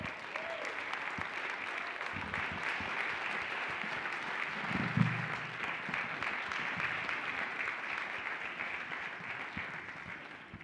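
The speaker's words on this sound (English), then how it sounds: "Give them a round of applause." Sustained audience clapping at a Burns Night event, a steady dense wash of hands from a sizeable crowd, continuing evenly before tapering slightly at the end.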